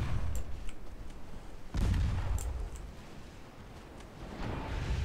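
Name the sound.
troops firing volley in video game Total War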